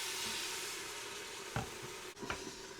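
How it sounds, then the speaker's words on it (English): Beef stock poured into a hot Instant Pot to deglaze it while making beef and lentil soup, a steady close sizzle and hiss throughout with a couple of short stirring scrapes near the end. "we have some deglazing to do here. So we're going to put in some of this beef stock"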